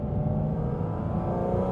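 A Porsche GT4 RS engine holds a steady, loud, low rumbling drone through its exhaust, with no clear rise or fall in pitch.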